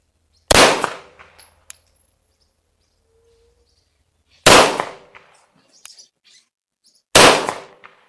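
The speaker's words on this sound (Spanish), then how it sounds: "Cuatro disparos, Ocho metros aproximadamente" Sharp pistol gunshots, four in all at about eight metres, each a loud crack with a short ringing decay, spaced irregularly with quiet gaps between; small metallic clicks follow.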